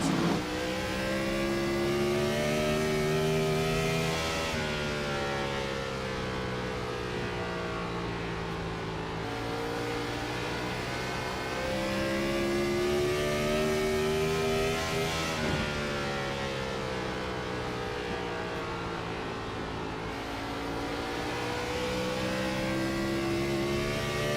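Onboard engine of the race leader's number 54 stock car at speed during an oval race, loud and continuous, with the pitch rising under acceleration and dipping at each corner in a repeating cycle.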